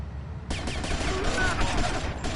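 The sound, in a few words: gunfire from the video game Grand Theft Auto: Vice City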